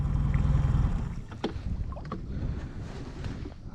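A small outboard motor drones low and steady on a boat crossing shallow river water, with wind buffeting the microphone and water splashing along the hull.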